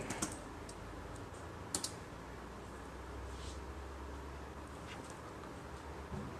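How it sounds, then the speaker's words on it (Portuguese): Keys are tapped on a computer keyboard while a password is typed during Linux Mint user setup. The taps are few and soft and spread out over a steady background hiss, with a slightly firmer double press near the middle. "Aperto Enter, redigite a senha."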